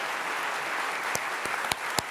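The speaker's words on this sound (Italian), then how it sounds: "Un grande applauso" Audience applause at an event, a steady wash of clapping with a few sharper individual claps standing out near the end.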